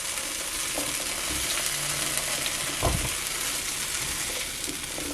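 Cut potatoes and bacon frying on a Dash Flex griddle, a steady close sizzle with a brief scrape or clunk of a spoon against the plate near the middle.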